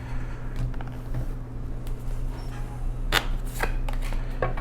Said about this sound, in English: let me pull your oracle cards here